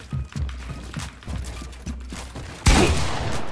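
Rapid mechanical gun clicks and shots from a fake Fortnite rip-off shooter game, a string of light taps followed by a louder burst of firing near the end, with no talking.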